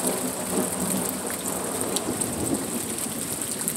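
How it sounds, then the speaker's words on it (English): A thunderstorm with steady, hissing rain falling on surfaces, heard outdoors with continuous loud rain and a low rumbling thunder beneath it, without speech. "But that was a weird sounding thunder."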